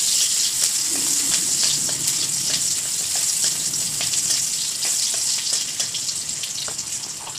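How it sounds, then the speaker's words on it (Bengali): Garlic, a dried red chili and a little onion fry in a small amount of hot oil, a dense continuous crackling sizzle with light stirring, close and steady without speech. "একটা শুকনো লঙ্কা, একটুখানি পেঁয়াজ, বেশি কিছু দেবো না, এইটুকু দিয়ে তেলে দেবো"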